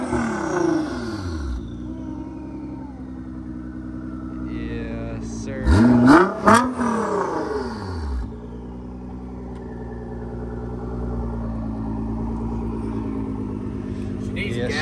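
Supercar engine idling, then briefly revved hard a couple of times near the middle, rising to a loud roar before settling back to a steady idle, with people talking over it.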